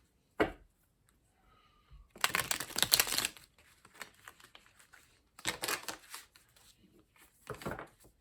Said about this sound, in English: we're going to be shuffling on camera today since this is a special occasion reading